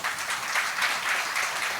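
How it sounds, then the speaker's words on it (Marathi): A crowd at a Marathi comedy show in an auditorium claps steadily for a short burst, sounding as a dense, fairly even patter of hands with no voices over it. "त्यांच्यासाठी जोरदार टाळ्या द्या"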